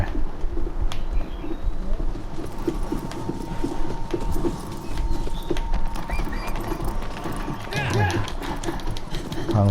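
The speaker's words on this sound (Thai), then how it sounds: "ควบม้าไป" A horse gallops at a steady rhythm in Shadow of the Colossus, its quick hoofbeats drumming close and constant, while a voice speaks over the game sound.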